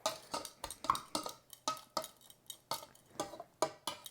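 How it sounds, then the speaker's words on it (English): Protein powder mixture being stirred in a bowl, about sixteen crisp scraping and clinking strokes in a steady rhythm, close and fairly quiet with no talk. "we're going to mix this together until it sort of looks like coarse sand"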